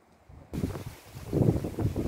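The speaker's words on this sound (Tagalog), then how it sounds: "mahangin na dito sa taas" Gusty wind buffets the microphone in low rumbling bursts, rising and falling, high on a hiking trail, with no talk.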